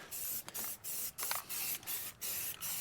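A can of Rust-Oleum spray paint hisses onto a truck frame in a series of short, loud, close bursts separated by brief pauses.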